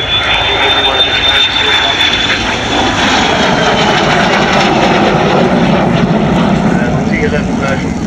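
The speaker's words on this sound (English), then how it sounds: "this is a two-seat trainer version of the Vampire in training colours" A de Havilland Vampire T.11 two-seat jet trainer roars loudly overhead, a continuous engine rush with a thin high whine, while a person talks over it.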